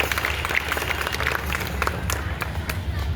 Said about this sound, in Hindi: तालियों से अभिनंदन,